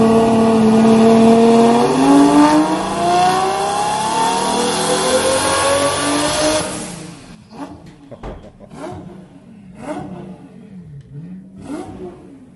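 A limousine-sourced V12 fitted in a Mark IV Toyota Supra revs hard during a tuning session, its loud, smooth wail climbing in pitch for several seconds before dropping to a lumpy, pulsing idle.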